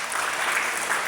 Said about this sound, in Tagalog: Pumalakpak ang mga gusto magpasikat kay Lord.